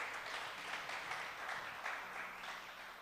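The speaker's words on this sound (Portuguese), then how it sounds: "Dê uma salva de palmas essa palavra" A church congregation at a youth service claps, a continuous, fairly faint and distant patter of applause that tapers slightly toward the end.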